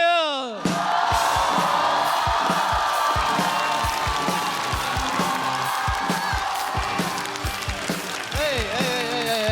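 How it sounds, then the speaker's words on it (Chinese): A comedy club audience bursts into loud applause and cheering as a stand-up comedian is welcomed onstage, a dense, sustained roar of clapping with whoops, and a host's voice briefly over it at the start. "掌声有请"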